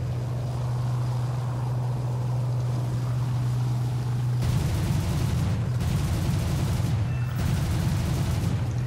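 Aircraft cannons fire in War Thunder, in a German 3.7 realistic-battles lineup. A steady engine drone runs for several seconds, then gives way to loud, rapid bursts of automatic cannon fire, repeated three times with short pauses.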